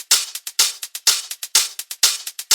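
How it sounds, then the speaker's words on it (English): A minimal underground house hi-hat and shaker loop: one small main hat with light shakers layered on top, ticking in a tight, repeating bright pattern with a crisp accent on each beat, played alone with no voices. "it's just one small main hat and a few little shakers on the top."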